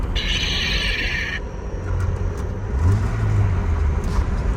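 A Chevy S10 pickup fitted with a lightsaber gear shifter, its engine rumbling low and rising in a brief rev as it downshifts, steady and close throughout, with a faint high whine early on.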